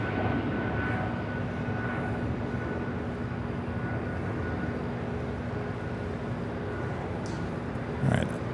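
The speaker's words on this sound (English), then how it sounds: "That is Air Canada 553 taking off to Vancouver on the" An Air Canada Airbus A220-300 takes off at an airport, its jet engines making a broad, steady roar heard from a distance that holds level across the whole stretch.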